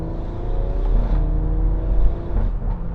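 A BMW M140i accelerating hard on a wet road, its engine note rising and loud, heard close from inside with steady throaty rumble and no talking.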